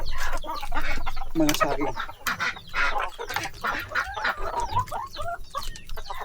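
Heritage chickens cluck and call on a small semi-organic farm, close and fairly loud, with a person talking briefly over the birds.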